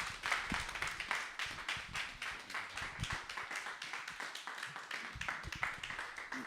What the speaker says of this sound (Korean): 우리 환영의 박수로 맞아주시기를 바랍니다